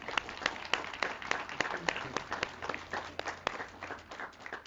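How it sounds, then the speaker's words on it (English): An audience claps at the grand opening of the Lenox public safety complex, a steady, moderately close patter of many hands lasting a few seconds without speech over it. "I also want to give a round of applause for the taxpayers in Lenox"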